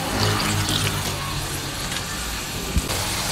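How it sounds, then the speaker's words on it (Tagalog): A glass of water poured into a cooking pan of adobong sitaw with dilis, a steady rushing splash over continuous hiss, with one small knock near the end. "Pwede na tayo maglagay ng tubig na water. Isang baso lang."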